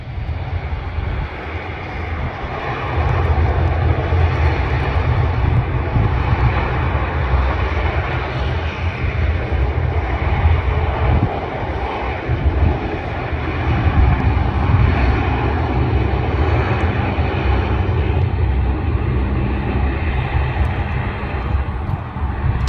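Jet engines of an airliner roar steadily at Canberra airport before takeoff, a loud continuous rumble and whine that swells slightly midway, heard from nearby outdoors.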